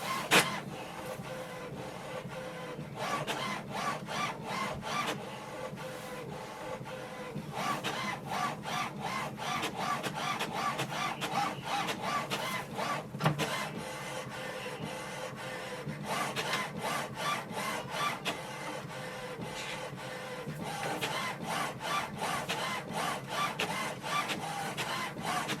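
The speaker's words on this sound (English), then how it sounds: "So printer is going to print the alignment page now." An HP OfficeJet Pro 9014 printer prints an alignment page, its print head shuttling back and forth in rapid rhythmic passes with brief pauses between bursts, close and steady with no talk.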